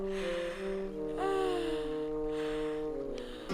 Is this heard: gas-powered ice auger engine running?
no